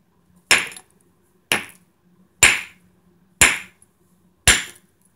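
Hammer blows chipping open a geode: five sharp, loud strikes spaced about a second apart, each ringing briefly before the next, with no talk.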